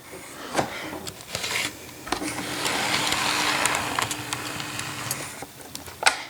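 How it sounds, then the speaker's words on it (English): A ScaleTrains GE C39-8 model locomotive in Norfolk Southern livery runs on a DCC-ready layout, its small motor giving a soft steady whir with occasional clicks and track rattles, close and fairly quiet. "After all, the locomotive runs really nice."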